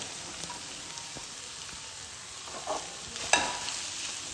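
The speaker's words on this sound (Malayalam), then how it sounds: "ഒരു 3 ഉള്ളി ചെറുതായിട്ട് കട്ട് ചെയ്തത് അത് ഉരുവിട്ട് ഇട്ട് കൊടുത്ത് ഒന്ന് വാട്ടിയെടുക്കാം" Three finely chopped onions sauté in a hot pan with a soft, steady sizzle and occasional stirring, and one sharper clink or scrape near the end. The sound is fairly quiet and close, and no one speaks.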